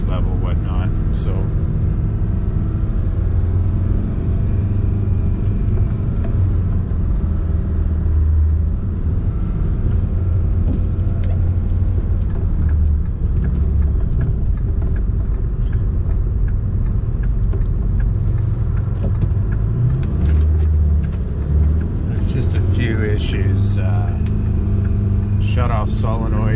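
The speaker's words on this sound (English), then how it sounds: "just a quick video going through the gears in town here and the noise level" A Detroit 4-53T diesel engine in a 2009 Ford F350 with a 5R110 transmission rumbles loudly and continuously from inside the cab, its pitch rising and falling as it works through gears in town, with road noise throughout.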